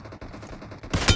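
Gunfire in the mobile battle royale shooter PUBG Mobile, arena training 8v8 match on the Santorini map: a low rumble of distant shots, then a loud close burst near the end.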